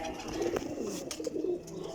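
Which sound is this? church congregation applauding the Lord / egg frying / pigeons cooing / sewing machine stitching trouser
pigeons cooing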